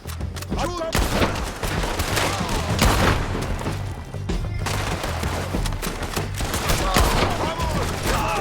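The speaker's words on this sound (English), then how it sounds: "Shoot the bastard!" Gunfire in Red Dead Redemption 2, a chaotic run of loud, sharp shots and booming reports in irregular bursts, close and far, with voices shouting between them.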